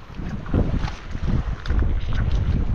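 Gusty northeast monsoon wind buffets the microphone in rough, rumbling bursts on a shore at low tide, with faint sounds of water moving underneath.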